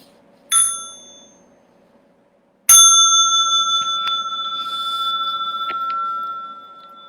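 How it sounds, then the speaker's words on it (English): A small meditation bell struck twice, a bright single ding that decays, then after a pause a second strike ringing on with a long, steady shimmering sustain, alone in a quiet room. "Small bell for stretching and massage."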